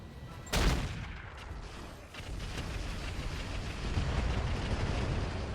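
Artillery fire in the mech combat game RogueTech: one sharp, loud blast is followed by a rolling rumble of further impacts and a continuous low roar that carries through to the end.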